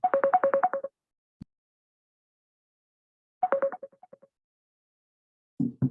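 A phone ringtone plays in two short bursts of rapid repeating electronic beeps with a pause between, clear and alone in a quiet room, followed by a brief low tone at the end.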